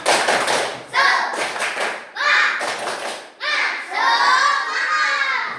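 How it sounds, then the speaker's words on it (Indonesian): A school class performs the rhythmic 'tepuk semangat' clapping chant, bursts of patterned clapping alternating with children's shouted chant phrases, loud and close, in four distinct rounds. "Oke, kita tepuk semangat sekali lagi."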